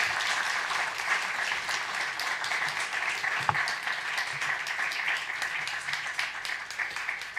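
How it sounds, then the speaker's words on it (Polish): Audience applause after a university lecture and panel on Polish history, steady dense clapping from a large hall crowd sustained throughout without pause, moderately loud and even. "Proszę o brawo."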